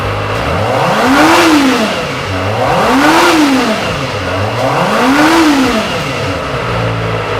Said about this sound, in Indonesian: kita coba dengar gimana suara dari ZX25R 250cc 4 silinder segaris